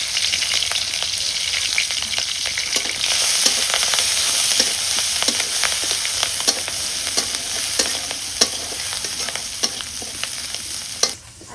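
Chilli and onion frying in a pan for an ash gourd stir-fry, a loud, continuous close sizzle with frequent stirring scrapes and ticks, cutting off near the end.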